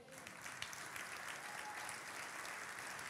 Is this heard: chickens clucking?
no